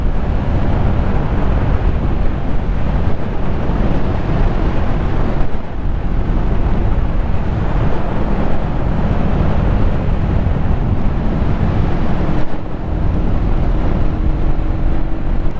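A Yamaha MT03 motorcycle rides on wet back roads with cold tyres: steady, loud wind rush over a continuous engine drone, with brief dips in level and no talking.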